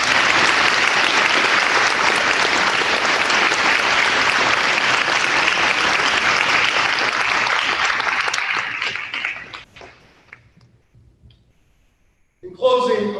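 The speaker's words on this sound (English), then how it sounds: "Let us give them a round of applause." An audience applauds inductees at an honor society induction ceremony for the class of 2022, with dense, steady clapping that fades out, falls silent briefly, then returns with a short burst.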